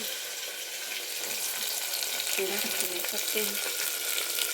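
Chopped onions fry in a hot tadka, giving a steady, dense sizzle and hiss close by, with brief talk over it.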